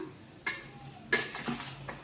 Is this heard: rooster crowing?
no